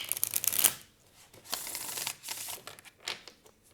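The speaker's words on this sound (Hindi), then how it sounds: "One last shuffle." A deck of tarot cards is shuffled up close with crisp riffling and flicking, followed by softer scattered card slides and taps.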